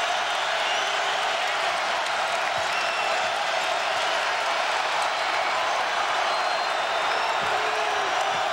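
Syracuse home crowd roars at a college basketball game against Pitt, a loud continuous wall of cheering with faint whoops and scattered ball bounces beneath.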